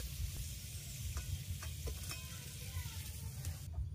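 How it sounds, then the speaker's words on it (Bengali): Garlic cloves fry in hot oil with a steady, close sizzle, and a few light clinks of a spoon against the pan sound over it. "তেল গরম হয়ে গেছে, এবার রসুনের কোয়াগুলো দিয়ে দেবো।"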